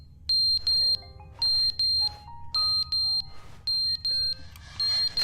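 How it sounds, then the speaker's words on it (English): A fire alarm rings in The Stanley Parable, sounding as a repeating pattern of loud electronic beeps in regular paired bursts with short gaps between them, over a low ambient hum. "It's the fire alarm."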